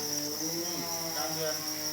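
Crickets on a Thai cricket farm, a dense, steady high chirring from many insects close by, with someone talking underneath.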